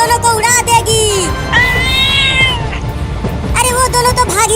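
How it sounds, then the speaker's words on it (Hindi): Two cats meowing on a train track, loud repeated yowling calls in close succession with a short pause, set against steady background noise. "2 बिल्लियाँ ट्रेन की लाइन पर है और ट्रेन जा रही है उनके पास।"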